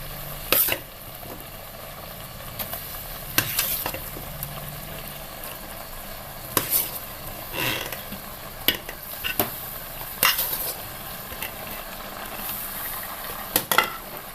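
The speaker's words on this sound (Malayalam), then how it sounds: "ഇനി ഇതിലേക്ക് നമുക്ക് വേവിച്ച് വെച്ചിരിക്കുന്ന കാച്ചിൽ ചേർക്കാം" Cooked kachil yam stirred into boiling coconut paste in a pan, a low simmer and bubble under repeated scraping strokes and sharp clinks of a spoon against the vessel.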